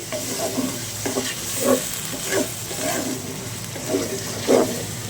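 Chaka shrimp fry with vegetables in a pan for a light-oil curry with teasel gourd, jackfruit seeds and potato: a loud, steady sizzle broken by rhythmic scraping bursts of stirring.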